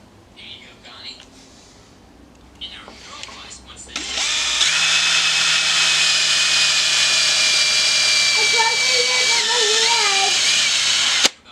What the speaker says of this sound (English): I'm going to go ahead and drill them out and secure the toe plate.